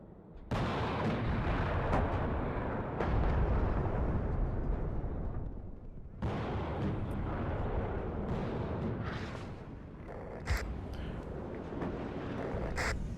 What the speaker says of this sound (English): I really need to take out that BMP-1, it's just free firing.